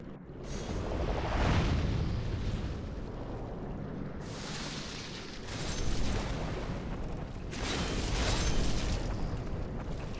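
Explosions in the video game Demon's Souls, heavy rumbling blasts that swell and fade in several waves over ten seconds, broad and booming, with no talking.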